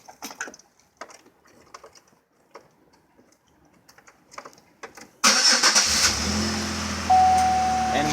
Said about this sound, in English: Now we go ahead and we turn on the car.